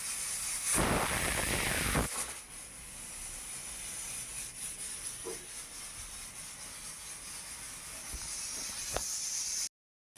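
A pressure cooker on the stove lets out a loud, close hissing whistle of steam for about two seconds, then falls to a quieter steady hiss with faint kitchen clicks.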